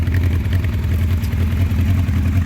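A 1984 Honda CB700SC Nighthawk motorcycle engine idles on choke, a steady close low rumble with a busy, slightly uneven pulsing and light mechanical clatter, continuous with no voices.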